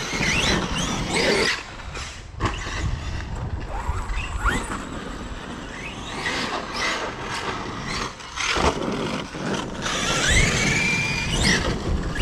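A small radio-controlled Traxxas Sledge truck whines and revs continuously outdoors on grass, with high-pitched motor squeals rising and falling and occasional rattling bumps.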